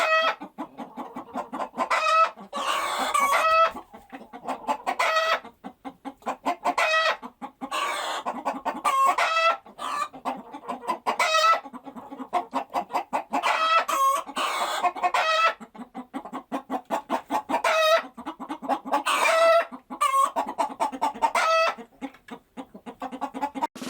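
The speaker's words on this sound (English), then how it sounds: "That's right, I'm a chicken," A chicken clucks loudly and continuously at close range in a rhythmic, busy pattern of short, sharp calls, with occasional higher squawks mixed in.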